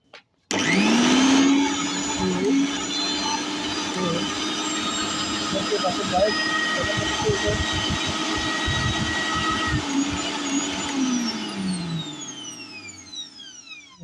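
A repaired steel blender motor starts and runs with a loud, steady high-pitched whine for over ten seconds, then spins down toward the end, close up with a faint voice underneath.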